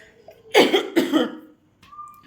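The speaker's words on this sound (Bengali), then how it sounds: "প্রচণ্ড কাশি হচ্ছে" A person who is unwell with a cold coughs twice in quick, harsh bursts, close and loud, followed by a quieter breath or throat sound.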